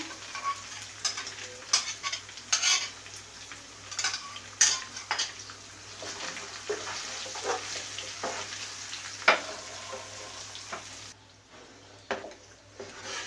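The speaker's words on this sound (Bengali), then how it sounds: "মশলাগুলোকে আমি খুব ভালো করে ভেজে নেব।" Spices with a yogurt and fried-onion paste ground with nuts sizzle softly in a pan for chicken roast, with a utensil clinking and scraping in irregular bursts nearby; no one speaks.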